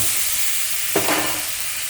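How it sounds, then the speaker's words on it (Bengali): Eggplant seasoned with turmeric and salt fries in oil tempered with nigella seeds, a steady broad sizzle with one brief stirring surge in the middle. "বেগুনটা আমার ভাজা ভাজা হয়ে গেছে"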